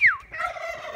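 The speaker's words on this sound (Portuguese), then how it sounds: "Aí estão os perus, ó." Turkeys gobble at a country farm in Brazil, one quick, close, rattling gobble call with a falling opening note, heard alone.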